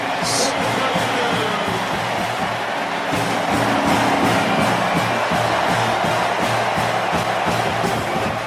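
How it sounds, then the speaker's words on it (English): A stadium crowd roars in a sustained, steady wash of cheering after an Oregon touchdown against Boise State, loud and continuous, with a commentator talking over it. "This crowd is pumped up."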